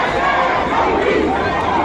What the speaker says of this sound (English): as you can see the crowd, very large crowd